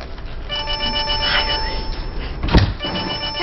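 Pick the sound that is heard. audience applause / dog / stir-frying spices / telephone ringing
telephone ringing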